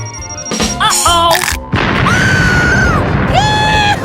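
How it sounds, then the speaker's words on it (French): Chocolate fountain bursting in a cartoonish explosion: a heavy boom breaks through bright whistling, sliding tones, followed by a sustained rumble as more squealing tones rise and fall on top. "Une explosion de chocolat!"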